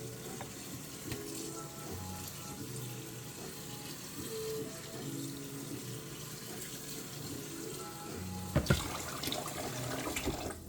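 Water from a kitchen tap runs in a steady, close hiss and splash while a pot is filled, continuing throughout, with a brief clatter of handling near the end and no talking.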